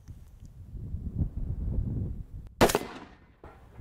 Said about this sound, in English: We'll shoot that LaRue Tactical one more time